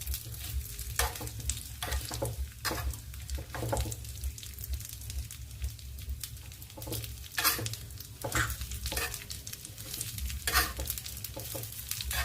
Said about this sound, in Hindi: अब मैं इसको चला कर सिम गैस पर इसको सेक लेती हूँ।